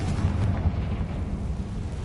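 A Confringo fire spell blasting in Hogwarts Legacy, a loud, sustained rumbling explosion roar with dense low-end boom filling the whole short burst, no speech over it.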